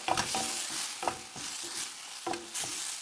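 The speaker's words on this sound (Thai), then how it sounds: "แต่คั่วผัดไปให้มักเลนมันสุกเนาะ" Tomatoes are stir-fried with garlic and onion in olive oil for a spaghetti tomato sauce, a continuous close sizzle broken by repeated spatula scrapes and stirs, with no talking.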